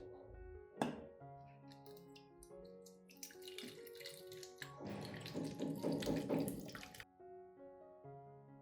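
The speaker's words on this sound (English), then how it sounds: "For the remaining solution, I pour it into a spray bottle." Liquid, a homemade plant-care solution, pours in a steady gurgling stream into a spray bottle for a couple of seconds, with quieter handling noises and faint clinks before and after.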